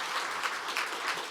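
An audience at a policy forum on women's business policy applauds in a brief, steady burst of dense clapping.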